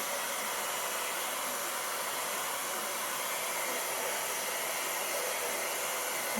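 A hair dryer on its low setting blows a steady, even hiss of air while drying stencil paste on a craft project, continuous and unbroken throughout.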